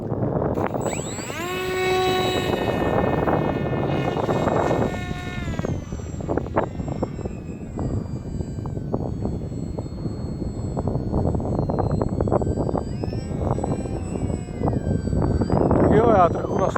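Radio-controlled model airplane fitted with a FrSky S6R stabilising receiver, its electric motor whining up in pitch at first, then droning on in a steady buzz through gusty wind noise as people talk nearby.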